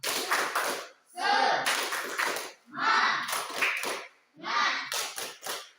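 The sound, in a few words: students doing rhythmic 'tepuk semangat' clapping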